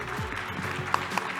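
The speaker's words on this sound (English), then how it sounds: "please give Paul Polman a big applause" Audience applauding after a conference session, a short steady patter of clapping from a crowd in a hall, fairly close, with a few sharper individual claps standing out.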